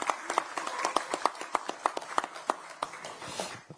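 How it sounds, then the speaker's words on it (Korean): A small crowd at a provincial budget policy meeting claps in a loose, uneven rhythm, individual hand claps distinct rather than a dense roar, lasting a few seconds. "두 분에게도 큰 박수를 부탁드립니다"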